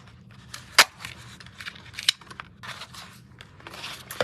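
A paper circle punch cutting circles from paper, giving a few sharp, distinct snaps and clicks spaced apart, close up, over quiet rustling of handled paper.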